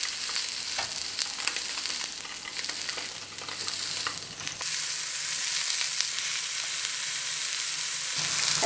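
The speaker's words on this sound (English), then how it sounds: "grill this paprika, red bell pepper, and mushrooms and tofu" Bell pepper, mushrooms and tofu sizzle steadily as they grill in a pan, a continuous close frying hiss with occasional stirring clinks and scrapes, no voices.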